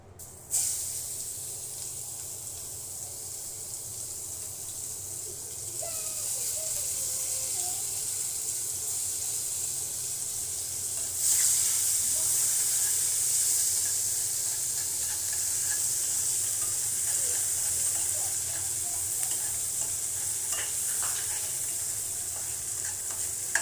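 Onion and green chili hit a hot pan and start frying, a quiet opening that swells into a bright, constant sizzle and grows louder partway through, with occasional stirring and no voices.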